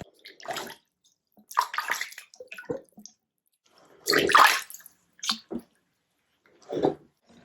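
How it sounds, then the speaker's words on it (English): Warm water splashes and runs in short bursts as a new tattoo is washed with Dettol, close and intermittent, with quiet pauses between the pours and no talking. "And now I'm just gonna give my tattoo a wash."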